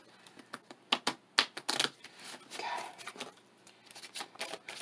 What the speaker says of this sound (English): It's so hard to shuffle a tiny deck.